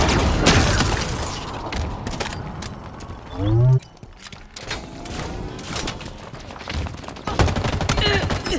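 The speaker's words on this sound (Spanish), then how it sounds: "Exquisita explosión" Rapid bursts of gunfire crackle throughout in Halo Infinite multiplayer, broken by a heavy booming explosion midway, with a voice speaking amid the action.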